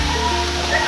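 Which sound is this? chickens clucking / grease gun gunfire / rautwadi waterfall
rautwadi waterfall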